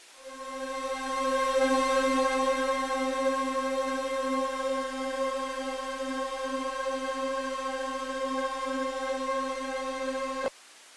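A single sustained note from the Molecular pad preset on the U-He Diva software synthesizer, a rich, bright harmonic tone that swells in, holds steadily for about ten seconds, then cuts off abruptly.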